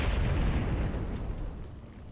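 Anti-aircraft guns in Axis & Allies (1998) thud out a rumbling barrage of low booms and bursts, dense at first and then tapering off, with no talking.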